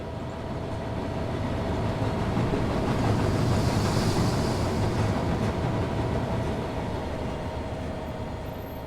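A weathered Class 66 diesel locomotive drives past in Train Sim World 3, a steady rumbling roar with rolling wheel noise that swells in the middle as it passes close, then holds on, with no talking.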